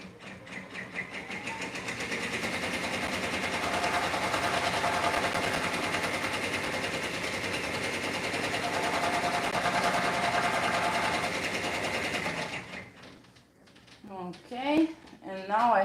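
A single needle sewing machine stitches fabric for a bunny lovey comforter, a steady loud mechanical whir running nonstop for about twelve seconds before stopping, followed by a voice talking near the end.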